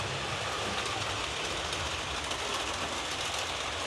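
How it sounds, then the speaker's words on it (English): Fleischmann model streamliner trains run steadily around a layout track, giving a continuous close rolling rumble with faint rhythmic clicking of wheels over rail joints and no voices. "Just watching these trains run around in manual mode."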